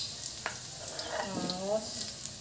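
Garlic frying in a pan for a stir-fried white cabbage dish, a steady soft sizzle with a brief tonal squeak partway through, close and moderately quiet.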